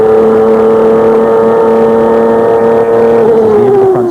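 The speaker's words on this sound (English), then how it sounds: "Let's listen to that gear shift." A 1996 CART race car at Surfers Paradise, heard onboard with a loud, steady high-pitched engine whine that holds its pitch and then drops as the driver shifts near the end.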